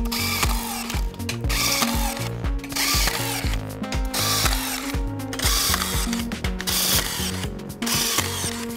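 A Senco SRT 40 rebar tying tool running at real speed, close and loud, with rapid repeated mechanical whirring and ratcheting cycles, short gaps between ties, and no talk.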